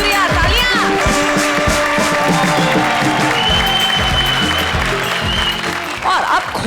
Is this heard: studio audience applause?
yes